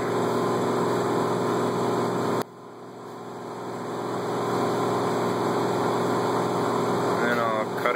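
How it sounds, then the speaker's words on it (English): A metal lathe cuts threads on a rifle barrel for a muzzle brake, giving a steady motor hum with tonal whine that drops briefly, then climbs back and continues evenly, close by. "Here the threads are being cut, the relief cut"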